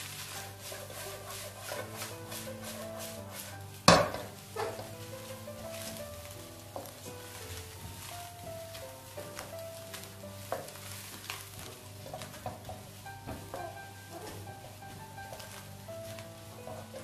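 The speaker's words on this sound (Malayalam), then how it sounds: "ഇനി നമുക്ക് വെജിറ്റബിൾ ഒന്ന് സോട്ട് ചെയ്തെടുക്കാം." Cabbage and mixed vegetables sautéed in a pan for restaurant-style Schezwan noodles, a soft sizzle under repeated scraping and stirring strokes with one sharp clack, heard close and fairly quiet.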